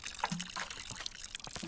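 Water pours and trickles as a potted seed is watered in a cozy gardening puzzle video game, a short, fairly quiet series of splashy liquid sounds with small drips, with no talking.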